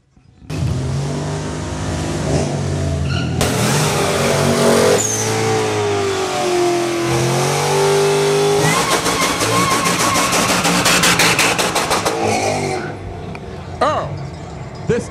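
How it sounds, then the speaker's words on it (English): Drag racing cars warming up and doing burnouts at a drag strip, engines revving loud and close with rising and falling pitch, then a sustained harsh roaring burnout, with people talking over the engine noise. "see how these cars warm up and burn out"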